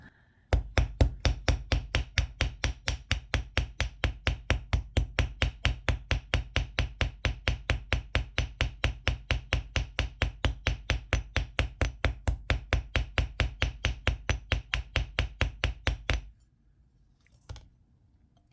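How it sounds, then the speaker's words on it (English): Steady rapid hammering on copper wire shaped into a heart pendant, dozens of sharp even metallic taps at close range for about sixteen seconds, then stopping with a couple of softer knocks. "I'm hammering the top a little flatter because I like to have that accent on the top."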